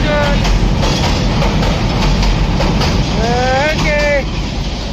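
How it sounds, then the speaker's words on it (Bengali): A loud, steady rumble of a passing train fills the clip, with a tonal horn-like wail sounding briefly near the end. "dickey dickey dickey dickey train আসছে"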